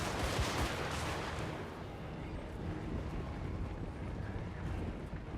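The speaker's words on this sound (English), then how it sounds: "there is something about gunfire that is just really satisfying." Battle gunfire in Total War: Warhammer 3, Sultanate of Araby forces: dense, continuous crackling volleys and distant booming shots blending into a steady roar, with no talking.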